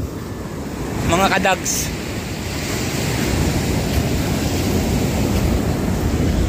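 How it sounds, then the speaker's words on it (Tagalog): Heavy storm waves surging and breaking onto a shore, a continuous loud roar with strong wind buffeting the microphone, while a person speaks briefly over it. "Grabe ng alon, no? Ito ang along bagyo."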